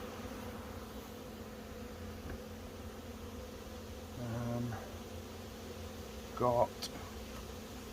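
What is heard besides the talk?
honey bee swarm buzzing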